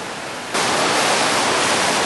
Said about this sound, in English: More shots of the flash flood today.